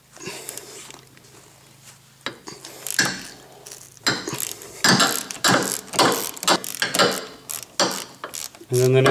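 Ratchet wrench clicking as it works lug bolts on the bottom of an S550 Mustang wheel hub, rapid bursts of close, loud ratcheting in repeated strokes with short pauses between.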